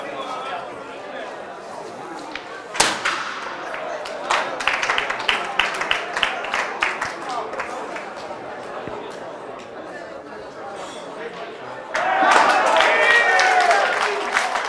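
A crowd at a bocce tournament claps and chatters. Scattered applause starts early, and a fuller burst of clapping comes near the end. People talk over it throughout.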